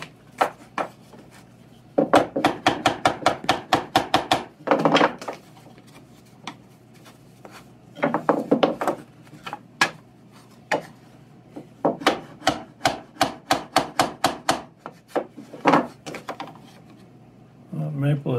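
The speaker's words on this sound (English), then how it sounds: "I'll just clean this up with a chisel" A chisel paring a jagged edge on a hard maple bookend makes bursts of crisp, rapid scraping strokes, close and loud, coming in quick clusters separated by short pauses.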